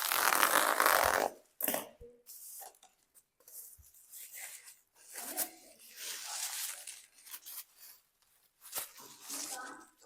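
Bubble wrap and tape being cut and handled while packaging a Star Wars figure, with close crinkling, tearing and rustling bursts broken by brief pauses and occasional softer handling noises.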